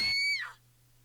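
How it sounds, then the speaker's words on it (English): A high, sharp scream rises from below in the Fate/stay night visual novel, a single brief cry that quickly slides downward and cuts off, leaving a faint low hum. "Did I just hear a scream coming from below?"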